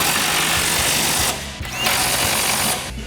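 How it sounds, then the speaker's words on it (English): An impact wrench with an 18mm socket drives bumper bolts on a 2014-2015 GMC Sierra 1500, a loud continuous whirring rattle that cuts out briefly, resumes, then stops near the end. "Same thing, impact 18mm socket and an 18mm wrench to hold the nut."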